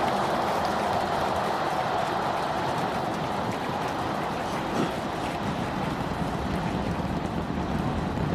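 The SpaceX Starship booster on Flight 7 climbs with all 33 engines firing, a continuous loud, crackling broadband roar that stays steady throughout with no voices.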